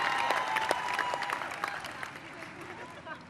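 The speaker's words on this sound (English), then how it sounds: "Give them a clap." Crowd applause for the U.S. Women's National Team teammates at an outdoor World Cup victory parade, a dense steady wash of clapping and cheering that fades slightly, with talk over it.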